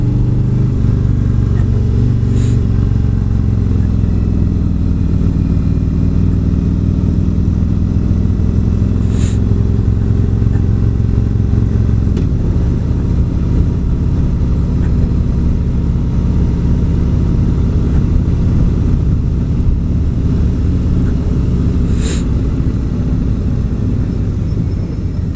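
A Harley-Davidson motorcycle rides up a driveway, its deep engine rumble loud and steady throughout, with the tone and load shifting about midway.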